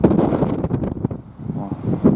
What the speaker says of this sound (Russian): Сейчас, надеюсь, слышно, какой ветер.